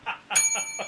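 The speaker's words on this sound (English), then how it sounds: "Is that the timeout bell?" A bell struck as a mock timeout bell gives one bright, ringing strike that sustains and fades through the second half, between short bursts of nearby chuckling.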